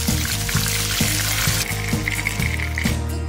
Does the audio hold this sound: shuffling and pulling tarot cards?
no